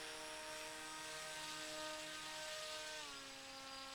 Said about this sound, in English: I want to try another full power while idling and going straight